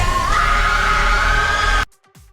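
A woman screams in a trailer for The Black Phone 2, a sustained loud shriek with a slight rise in pitch over a dense score, cut off abruptly near the end.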